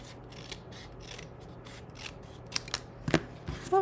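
Scissors cut craft paper with a run of quick, close, rhythmic snips and rustles, ending in a few sharper clicks and crinkles.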